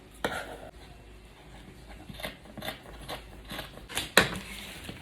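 Scissors trim Ankara fabric at the neckline of a kimono jacket, giving a few crisp, close snips and cuts spread across a quiet background.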